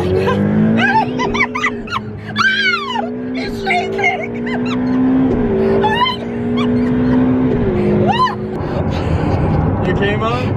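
A Ferrari 488 Pista on slightly wet ground, driven fast with its engine revving and rising through the gears, loud inside the cabin while excited voices talk and exclaim over it.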